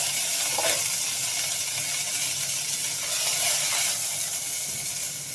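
Whole fenugreek, mustard seeds, cumin and washed curry leaves sizzle steadily in hot oil, a continuous bright frying hiss with small crackling bursts, close and fairly loud with no talk.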